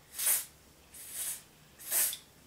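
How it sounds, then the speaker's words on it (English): Olive oil super hold hair spray hisses from a nearby can in three short, evenly spaced bursts, each about a third of a second long, with quiet between them. "Now I'm using my olive oil super hold spray and I'm just putting that"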